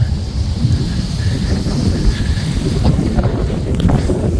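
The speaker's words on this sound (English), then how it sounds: "Pretty windy out here today," Strong wind blows outdoors beside a railway line in Rochelle, Illinois, buffeting the microphone with a loud, continuous roar and gusts and no talking.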